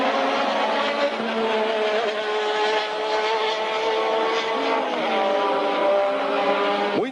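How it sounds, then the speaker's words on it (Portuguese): 1984 Formula 1 race cars at the Brazilian Grand Prix, engines screaming in a steady, loud high-revving drone that holds throughout, with pitch shifts as cars pass and change gear, heard alone without commentary. "Prost forçando, ultrapassando o Keck Rosberg."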